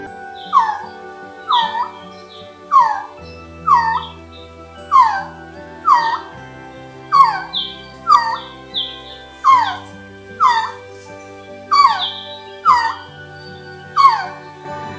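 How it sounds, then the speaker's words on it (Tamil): A male resplendent quetzal in cloud forest gives its mating call: a steady series of about fifteen clear, downward-sliding whistled notes spaced roughly a second apart, close and distinct with no talking. "இந்த காலகட்டத்தில் ஆண் பறவை ஒரு வித்தியாசமான சத்தம் எழுப்பி துணையை அழைக்குது."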